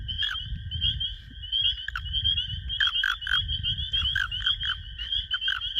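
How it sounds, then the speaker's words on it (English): An American toad calls close by in rapid, repeated high buzzy pulses that come in bursts, over a low rumbling background. "this is an American toad"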